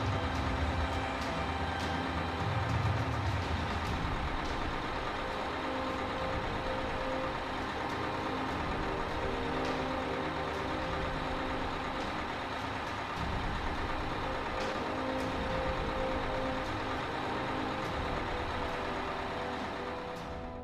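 A car in the Simple Sandbox 2 video game drives toward a gas station, its engine giving a steady, loud, continuous drone with a rumbling low end throughout and no talk.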